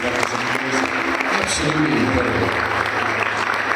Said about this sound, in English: Can we just have another round of applause for her, please?